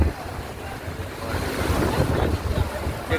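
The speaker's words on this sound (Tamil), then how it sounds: "தண்ணி ஓடுறத பார்த்தா ஓம் ஓம் ஓம் என்ற சத்தம் வருது" A mountain stream fed by snow melt near Muktinath in the Nepal mountains rushes with a broad, steady roar, swelling slightly as it goes, with wind buffeting the microphone.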